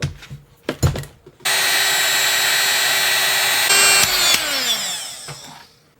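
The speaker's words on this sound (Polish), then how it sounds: "Chyba trzeba będzie wyciągnąć dmuchawę, żeby go ogrzać." A heat gun starts after a few handling knocks and blows loudly and steadily for several seconds, warming a heat-reactive image on a Witcher 3 collector's kit item, then its tone drops as it winds down.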